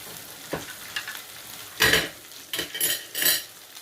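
Cooking oil heats in a pan on a stove before a mackerel curry sauce, giving short bursts of sizzling spatter with a few sharper, louder crackles and light utensil clinks between them.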